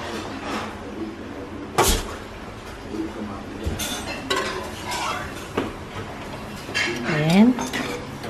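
Vegetables stirred in a pot, utensils scraping and clinking against metal in uneven bursts, up close with someone talking in between.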